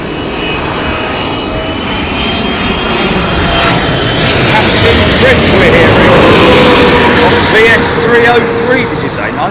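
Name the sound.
Boeing 777 airliner landing at Heathrow in wind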